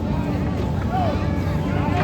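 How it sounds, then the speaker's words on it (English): A fire department pumper engine runs in the background supplying water to a suppression team at a straw-bale burn demonstration, a steady low mechanical drone under wind noise while a person speaks. "That noise you hear in the background right there, that is a pumper engine that is supplying water to our suppression team."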